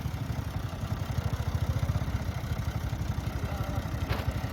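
A tractor engine chugs in a wheat field as it turns, a close, steady, rapid low thumping rhythm that keeps going throughout, with a faint brief squeak near the end.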